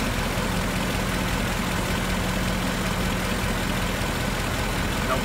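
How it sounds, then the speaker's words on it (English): A Ford Mustang with a leaking oil cooler sits idling on a hot day, its cooling fans running, giving a steady, even engine drone and fan rush that holds throughout with no talk over it. "Heat wave just came through, fans have come on."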